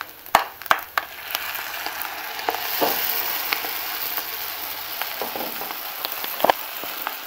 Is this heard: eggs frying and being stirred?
yes